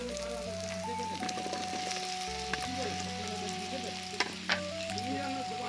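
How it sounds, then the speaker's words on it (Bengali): Mushrooms cook with cumin and red chilli powder in a pan, a constant soft sizzle with sporadic spatula scrapes and taps, while a low steady tone hums underneath. "মাশরুমটাকে হালকা আঁচে কষিয়ে নেব"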